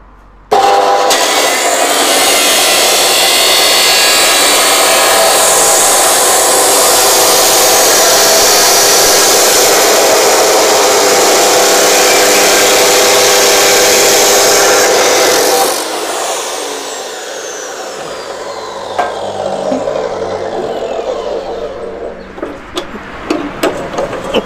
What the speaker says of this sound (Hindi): ये टॉप का पीस भी हमारा कटिंग करके तैयार हो गया है।